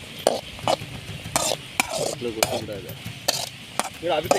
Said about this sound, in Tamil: நெய்யில் நல்லா அப்படியே பொரிச்சு பொன்னிறமாக எடுத்துங்க